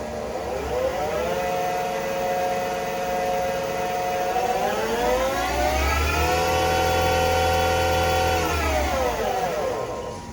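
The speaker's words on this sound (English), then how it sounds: "then we'll show the spindle running" A 2004 Haas SL-30 CNC turning center spindle whirs steadily at close range, its tone rising and falling in pitch as it speeds up and slows, with a low hum underneath.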